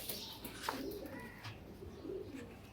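Racing pigeon chicks giving soft, low cooing calls, quiet and close, a few short coos in a calm space.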